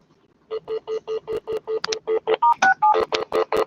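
A telephone is dialed with a rapid, even series of about fourteen loud, clear touch-tone beeps, each short and evenly spaced, with no talking.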